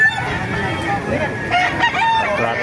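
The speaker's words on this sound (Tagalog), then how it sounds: "Napakarami pang manok dito mga kamasa na tumarating" Roosters crow and chickens cluck close by in a busy, noisy yard in Baliuag, with a steady background din.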